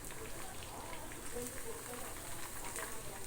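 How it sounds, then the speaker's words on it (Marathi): Chicken pakoras crackle faintly and steadily in hot oil, a soft continuous sizzle with a person speaking alongside. "छान तळतंय बघा"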